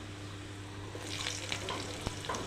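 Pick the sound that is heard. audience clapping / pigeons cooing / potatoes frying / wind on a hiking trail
potatoes frying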